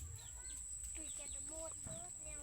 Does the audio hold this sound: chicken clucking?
yes